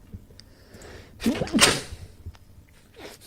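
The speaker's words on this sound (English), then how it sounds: "I had a bit of a sneeze there." A single sharp sneeze bursts out in a quiet room, brief and fairly close.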